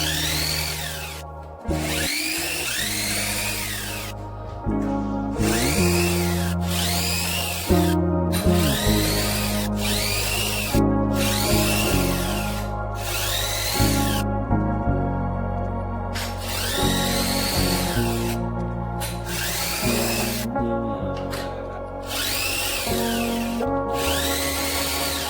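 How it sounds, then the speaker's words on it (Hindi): A power drill drives screws to fit parts onto a panel board, with repeated whirring bursts that rise and stop, short pauses between each screw, close and steady, with no talking. "अब बारी है सब चीजों को स्क्रू लगाकर फिटिंग करने की"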